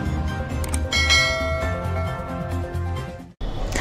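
A ringing bell chime used as a notification sound effect in a Marathi news bulletin intro, bright sustained tones that ring out for several seconds before cutting off abruptly.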